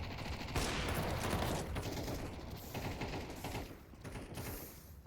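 Rapid gunfire in Counter-Strike 2, a dense burst of shots and mechanical weapon clatter filling the whole stretch at steady loudness with no talk over it.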